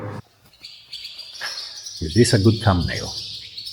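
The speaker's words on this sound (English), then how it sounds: "Birds having a nest and making a lot of noise." Nesting birds chirp and call in high, steady twitters inside an abandoned Byzantine church ruin in Northern Cyprus, while a person talks briefly over them.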